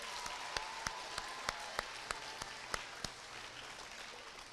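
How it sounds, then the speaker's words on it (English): A school audience applauds at an elementary awards ceremony for grades one through three: soft, distant, continuous clapping with a sharp regular tick cutting through at intervals. "So how about a round of applause and a thank you to everyone."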